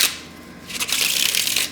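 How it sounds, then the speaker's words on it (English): Someone shuffles a deck of cards close to the microphone: a brief riffle, a short pause, then a longer crisp flurry of cards. No one talks. "one more shuffle, and then we'll cut"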